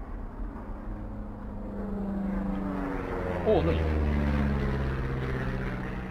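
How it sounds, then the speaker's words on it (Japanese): An airplane passes overhead in the video game Firewatch, a low droning rumble that slowly swells as it nears, with a brief voice speaking briefly partway through. "飛行機の音だ。"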